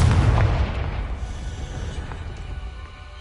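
A Confringo fire spell in Hogwarts Legacy bursts with a deep, rumbling boom that rolls on and slowly fades over a few seconds.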